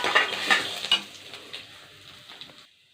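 Green chili and a pinch of grated ginger fry in hot oil in a pan for lemon rice, sizzling up close with stirring scrapes that fade before the sizzle cuts off.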